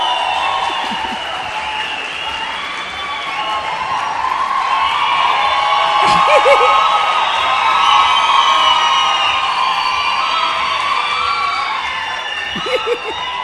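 A church congregation at a Sunday celebration service applauds and cheers in a sustained, loud wash of clapping and voices, swelling slightly in the middle with a few whoops rising above it.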